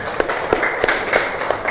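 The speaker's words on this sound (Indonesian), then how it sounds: "Kasih tepuk tangan." A group of students gives a short round of hand clapping in a classroom after a presentation, brisk and moderately loud.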